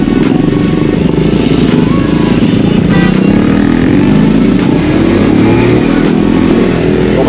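A loud motorcycle exhaust note booms up close while riding near Kullu, a continuous, throbbing drone with rising and falling revs and no talk.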